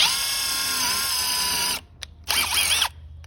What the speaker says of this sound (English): getting our drill here and putting in the rest of our pilot hole